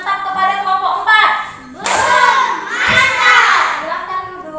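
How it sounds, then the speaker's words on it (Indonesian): A primary school class gives a group a rhythmic clapping cheer after a presentation, children's voices chanting and shouting loudly and close alongside the patterned claps. "Beri tepuk mantap kepada kelompok 4."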